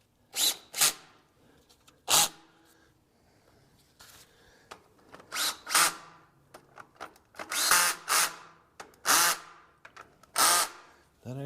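A power drill whirs in repeated short bursts with pauses between them, close and loud, during cylinder liner work on a John Deere 401C engine.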